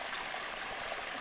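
Water of a small creek streams steadily over rocks, a continuous close-up rush and trickle with no breaks and no voices.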